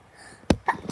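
A single sharp sneeze bursts out at close range, quick and forceful, then gives way to softer breathy sounds.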